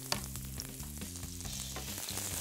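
Onion frying in oil in a pan, a steady crackling sizzle with a few brief stirring knocks, close and moderately loud throughout, with no voices.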